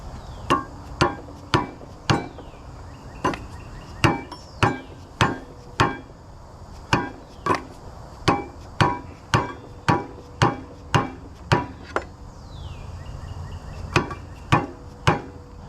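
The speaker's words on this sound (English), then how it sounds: "I'm wondering if I can tap that rascal." Hammer tapping on a metal part of a Tulsa 34 winch during teardown, about twenty sharp, evenly spaced ringing strikes, close and loud, with brief pauses between groups.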